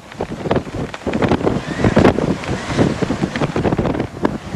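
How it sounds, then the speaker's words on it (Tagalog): Strong typhoon wind gusts buffet the microphone at the Sorsogon shore during heavy rain, an uneven rushing roar with repeated bursts and surging surf underneath, no voices. "Sinabayan pa ito ng malakas na hangin at pag-ulan."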